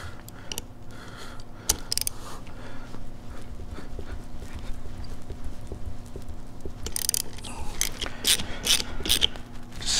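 Ratchet snugging down bolts on a 2004-or-later Harley-Davidson Sportster engine case during bottom-end reassembly, giving rapid clicking bursts that come and go over a steady background, growing busier toward the end.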